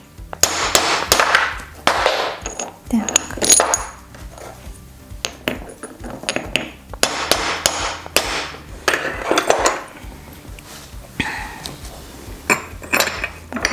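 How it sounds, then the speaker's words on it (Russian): Sharp hammer blows crack brittle smalt glass mosaic tiles in irregular bursts of clinking and clattering, with short pauses and a brief spoken word. "Молотком можно будет поколоть."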